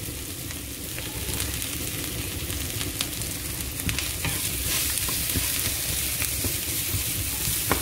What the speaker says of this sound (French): Je fais revenir mon oignon